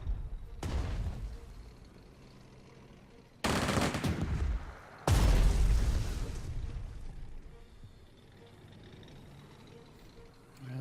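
Enemy artillery in the Panzer Strategy war game, several heavy booming bursts with rumbling decays, spaced a few seconds apart over a quiet background.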